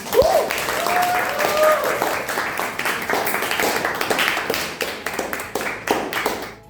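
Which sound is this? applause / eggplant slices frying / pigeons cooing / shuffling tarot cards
applause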